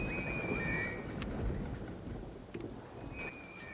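Rain falls steadily in Rollercoaster Tycoon on Xbox, a continuous hiss of drops with faint thunder rumble and occasional high chirps, no one speaking.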